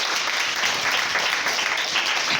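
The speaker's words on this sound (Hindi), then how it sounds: "इनके लिए ताली बजाना पहले" Steady applause from an audience at a government girls' senior secondary school event in Badshahpur, Gurugram, dense clapping holding evenly for the whole stretch.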